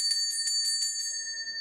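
A small single bell rings in a quick series of bright, close strikes, about six in under two seconds, its clear tone lingering alone with no voices.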